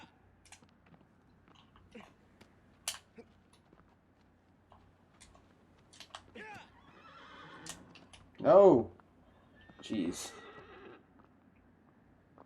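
A horse whinnies loudly twice near the end, after quiet hoof clops and rustling, with a brief exclamation from a man, in the video game Shadow of the Colossus.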